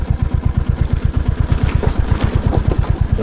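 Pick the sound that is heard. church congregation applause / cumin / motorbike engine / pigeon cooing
motorbike engine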